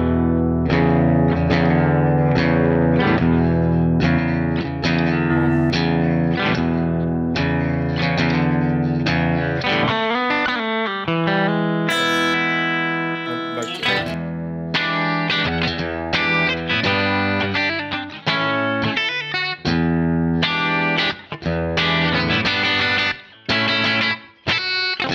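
Electric guitar played through the Blue Cat Audio Axiom amp plugin, switching between a natural pickup and a single coil, giving steady strummed chords with distortion and effects, loud and alone.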